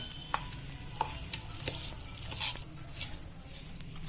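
Hot ghee goes into a wheat and urad dal ladoo mixture with jaggery and is stirred with a spoon. Sharp, evenly spaced spoon clicks sit over a faint, low sizzle.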